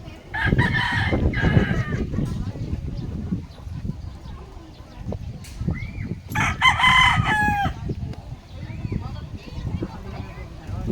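Fighting roosters cluck and crow nearby in a cockfight, with scuffling and flapping among people talking throughout.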